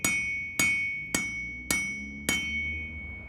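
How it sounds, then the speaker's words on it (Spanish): Hammer striking iron in five evenly spaced, sharp ringing blows, each with a bright metallic ring that decays slowly, heard up close with no voices. "Golpes y más golpes."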